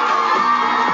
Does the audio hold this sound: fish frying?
no